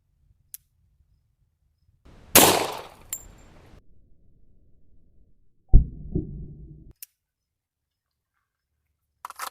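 Two sharp gunshots from a Glock 35 pistol fired at rotten tomatoes outdoors, each a loud abrupt crack with a brief decay, separated by a few seconds of quiet and faint clicks.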